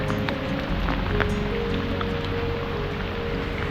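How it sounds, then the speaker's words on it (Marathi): Dense, steady downpour of heavy rain hissing on surfaces in forest near Koynanagar, continuous and loud throughout with no one speaking. "जोराचा पाऊस येतोय"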